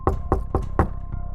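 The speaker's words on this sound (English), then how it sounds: "a soft, barely audible knock on the front door." A front door takes a series of four distinct knocks, close and evenly spaced, followed by a fainter fifth tap, with a low steady hum underneath.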